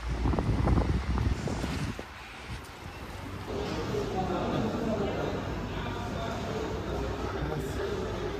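Wind buffets a handheld phone microphone outdoors, a steady low rumbling roar that persists throughout while people talk over it near the start.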